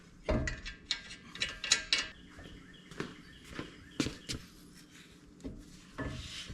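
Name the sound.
lug nut being put back on to hold brake rotor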